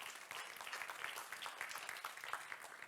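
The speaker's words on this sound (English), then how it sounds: "A round of applause, please." An audience claps after a pitch competition final, a moderately dense, even patter of applause heard from some distance and fairly quiet throughout.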